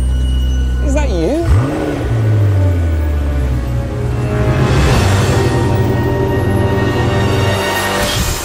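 A McLaren racing car engine roars and revs loudly, rising and falling in pitch before settling into a steady throaty drone.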